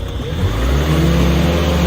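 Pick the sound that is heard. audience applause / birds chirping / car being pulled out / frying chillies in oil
car being pulled out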